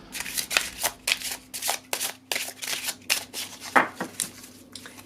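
A deck of oracle cards is shuffled by hand close up, giving a steady run of crisp riffling, flicking bursts in a quick, even rhythm with no voices.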